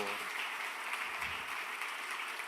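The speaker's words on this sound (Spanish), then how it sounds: "Si va a aplaudir al Rey, hágalo con fuerza, por favor." A church congregation applauds during a sermon, a broad wash of clapping hands at moderate volume that holds evenly throughout, with a faint low rumble near the start and no voices on top.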